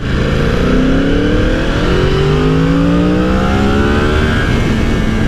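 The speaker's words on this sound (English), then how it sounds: "I think this bike sounds better." A 2020 Yamaha R1 sport motorcycle engine, completely stock, revs loudly and close, its pitch climbing in repeated sweeps as the throttle opens through the gears.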